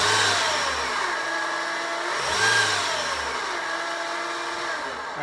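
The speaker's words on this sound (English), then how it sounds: "It's got a really weird noise. Let me start it up. I'll show you what it sounds like." The 1.8 liter engine of a 2008 Honda Civic runs with a weird noise, a steady close mechanical drone that swells and dips in waves as it revs, with a whining tone riding on top.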